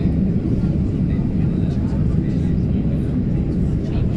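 Steady, loud airliner cabin roar from a plane descending to land in the Philippines, a continuous low rumble filling the whole stretch with faint voices murmuring beneath it.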